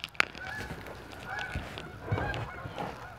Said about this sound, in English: you can hear the geese migrating above me.